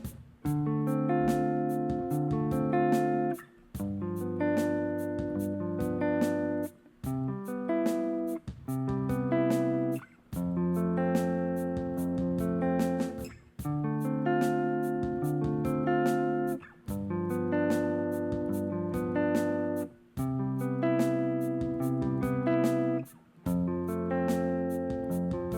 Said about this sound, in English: actually pick out the notes with the pick. When I say pick it out, I mean I'm going to individually play the notes.